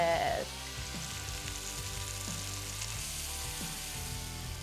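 Wild hog pork sears in a hot pan, a steady continuous sizzle and crackle close up, loud and unbroken throughout with no talking.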